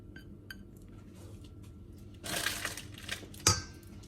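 Crushed biscuits being stirred together with melted butter in a bowl for a tiramisu base. Quiet at first, then a stretch of crunchy, gritty mixing and scraping, ending with one sharp clink of utensil against the bowl. No one speaks.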